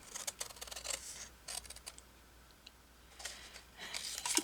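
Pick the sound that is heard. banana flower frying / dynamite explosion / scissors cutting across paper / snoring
scissors cutting across paper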